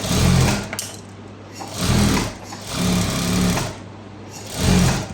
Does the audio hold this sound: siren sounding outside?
no